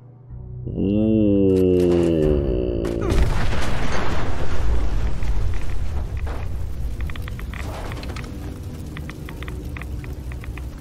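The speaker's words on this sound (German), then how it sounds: "Dass der explodiert. Ein legendärer Mr. Gutsy." Legendary Mr. Gutsy robot in Fallout 76 blowing up: a rising mechanical whine cut off by a loud booming blast with a long rumbling, crackling tail, no talk.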